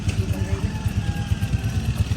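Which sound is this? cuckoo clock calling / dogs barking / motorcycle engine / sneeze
motorcycle engine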